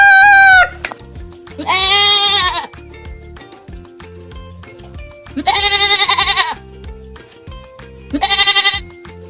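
Three loud goat bleats, each wavering and drawn out, separated by pauses over a bouncy musical backing.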